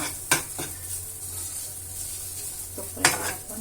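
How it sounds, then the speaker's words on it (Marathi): A sweet sheera mixture for a fasting recipe cooks in a pot over a lowered gas flame, a soft continuous bubbling hiss with two sharp spoon clinks against the pot, close and without speech. "इकडे आपली उकळी आलेलीच आहे।"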